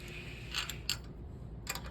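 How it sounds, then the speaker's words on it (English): Allen key turning 1/4-20 screws into a metal tripod adapter plate for a camera slider, a few short close metallic ratcheting clicks and creaks in quick bursts with quiet gaps between. "using 8 1/4-20 by 7/8 screws and a set 3/16 Allen"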